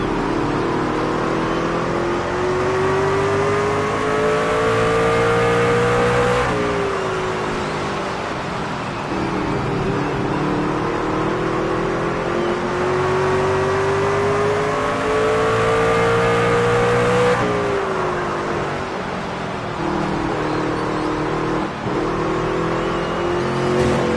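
NASCAR Craftsman Truck Series engines at Martinsville Speedway roar together on a green-flag restart, a dense, loud, continuous wall of revving with rising and falling pitch sweeps as the pack accelerates, and no voices over it.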